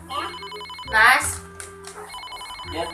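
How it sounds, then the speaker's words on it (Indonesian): A mobile phone rings with a repeating electronic ringtone, moderately loud and nearby, while people talk over it in a home setting. "itu loh HP Muni"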